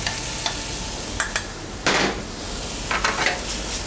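Braised oxtail tossed in a hot pan with carrots, leeks and celery, a steady close sizzle broken by several short scraping, rustling bursts as the pieces are stirred and flipped.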